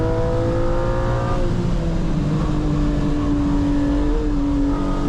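A Porsche 718 Cayman GT4 engine drones loudly on a race track, held at steady high revs with a shift, then climbing again, close and continuous.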